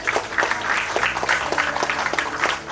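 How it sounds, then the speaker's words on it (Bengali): An audience at the Bengali film premiere of Bini Sutor Taan at Nandan breaks into sustained applause, many hands clapping in a thick, even wash with some individual claps standing out close by. "একটা জোরে হাততালি হয়ে যায়।"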